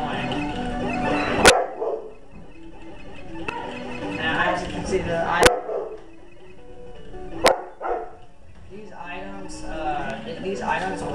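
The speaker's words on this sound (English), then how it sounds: "Sorry, my dog won't stop being annoying." A pet dog barks in sharp, loud bursts at roughly two-second intervals, breaking in over continuous gameplay narration and background game audio.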